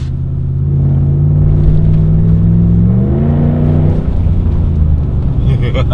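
A Dodge Ram pickup's 5.7 Hemi V8 revs through its new exhaust: a loud, close, deep rumble climbs in pitch and holds before settling back, with a voice talking over the engine.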